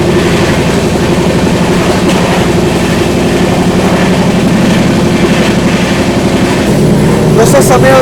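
The 12141 Patliputra Superfast Express, hauled by a WAP-4 electric locomotive, races along at high speed with a loud, continuous roar of wheels and rumbling coaches heard close up throughout.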